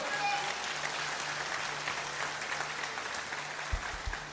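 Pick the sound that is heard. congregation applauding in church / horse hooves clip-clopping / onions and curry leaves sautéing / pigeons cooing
congregation applauding in church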